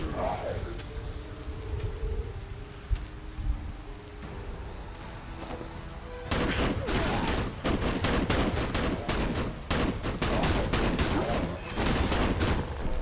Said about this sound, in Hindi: इनको भी गन से मारेंगे।